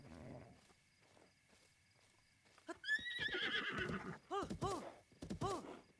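A horse in The Legend of Zelda: Breath of the Wild whinnies loudly in rising and falling calls, followed by rhythmic clopping hoofbeats, with faint talk at the start.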